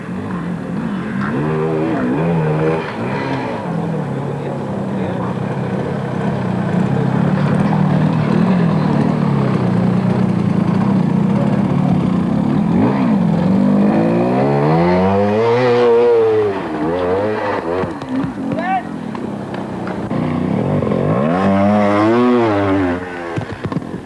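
Trial motorcycle engines working through mud at a 1988 competition, rising and falling revs that buzz and whine over a steady rumble for about twenty-four seconds.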